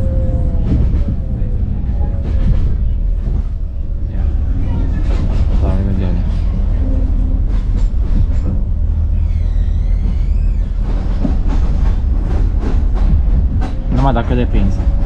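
A Romanian CFR passenger train runs on the rails between Golești and Parcul Kretulescu, giving a loud and steady rolling rumble with clattering wheels and squealing metal, while voices talk faintly beneath it.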